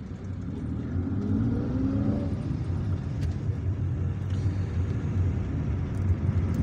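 A car pulls away from a green light in Algiers, its engine rumbling and revving steadily up close as it accelerates, with no talk.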